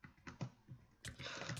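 Faint computer keyboard typing at a gaming setup, a few separate key taps followed by a quicker cluster of clicks, quiet and alone.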